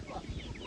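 Rooster and chickens in a rural outdoor setting, clucking in short, close repeated calls with a steady background of farm noise.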